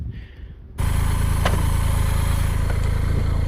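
A BMW K75s motorcycle engine under way, cutting in abruptly after a quiet moment and then holding a steady, loud, close drone with wind rush as the old-school bike rides on.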